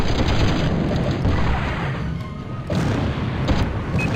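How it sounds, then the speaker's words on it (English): Rocket bombs explode in the Battlezone video game, loud, continuous booming rumbles with heavy low-end blasts that overlap and swell in a sustained barrage. "they're shooting those powerful rocket bombs"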